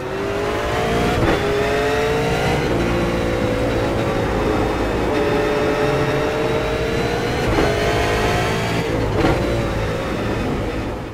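V8 Supercars race around Laguna Seca in the iRacing sim, their engines roaring loudly and continuously, with pitch rising and dropping through gear shifts and several cars overlapping throughout.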